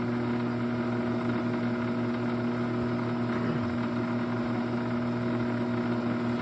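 A brushless motor spins at 300 RPM with a steady, unbroken mechanical hum and whine, moderately loud and close, with no speech.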